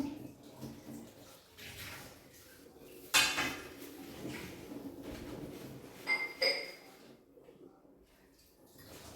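Chopped banana flower is stirred in a pan for Kerala-style thoran, with soft scraping and several sharp metallic clinks of a spoon against the pan, one louder clatter standing out, over a quiet kitchen background.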